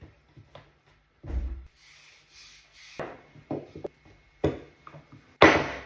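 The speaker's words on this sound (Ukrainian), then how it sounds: "І ріжемо на маленькі шматочки." Knife cutting a rolled rope of varenyky dough into small pieces on a board, giving scattered short scraping and tapping cuts of varying loudness separated by brief pauses, with no speech.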